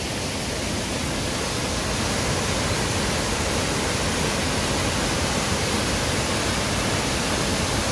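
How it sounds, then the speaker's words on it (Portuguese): Cachoeira das Bromélias waterfall with three drops, a dense, steady roar of falling water heard up close at its base, loud and unbroken with no pauses. "Ela forma 3 quedas de água,"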